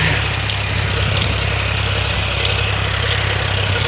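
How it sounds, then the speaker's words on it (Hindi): A tractor ploughing a field in a village in Ballia, rural India, runs as a steady, loud low engine drone with constant rumble and vibration throughout, no pauses and no voices. "देखिए देखिए गांव में इस तरह से खेल जोताता है ट्रैक्टर वहाँ पे।"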